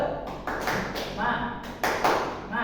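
A group claps in a rhythmic 'tepuk semangat' pattern of sharp, spaced bursts, with voices chanting and talking over the claps.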